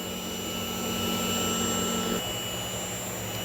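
A 3D printer lays down its first layer with a steady whirring hum of fans and stepper motors, fairly loud and unbroken, its tone dropping slightly partway through, with no talk.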